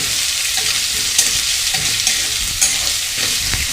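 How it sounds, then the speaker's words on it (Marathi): Onion, green chillies and curry leaves stir-fry in hot oil with cumin, a steady bright sizzle with occasional scrape and clack of a spatula against the pan, close and fairly loud, no voices. "कढीपत्ता, कांदा आणि मिरच्या व्यवस्थित परतून घ्यायचे"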